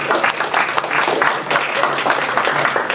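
Audience applause fills the room as a steady, fairly loud patter of many hands clapping, with a hint of voices faintly underneath throughout the short stretch.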